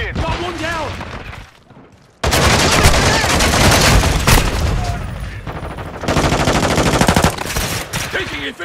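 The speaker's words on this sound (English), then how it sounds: "Taking effective fire!" Dense automatic gunfire and rapid shots from a Call of Duty: Modern Warfare 2 Domination match, loud and nearly continuous with a brief lull, mixed with game voice callouts.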